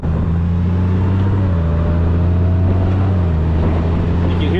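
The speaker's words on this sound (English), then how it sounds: "You can hear that DCT just hopping through the gears." Car with a dual-clutch transmission under way, giving a loud, steady engine drone that steps down in pitch at a quick gear change partway through.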